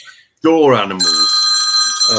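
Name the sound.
mobile phone ringing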